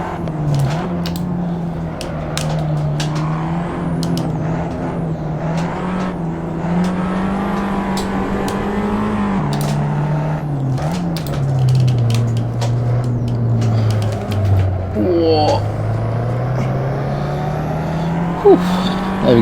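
A race car engine in the racing game Assetto Corsa holds a loud, steady drone, its pitch dipping and rising under braking and acceleration, with clicks and a brief blip near the end.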